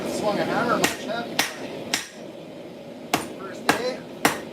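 Sharp metallic hammer blows on steel at a forge, six strikes at uneven intervals against a steady background hum, close and ringing.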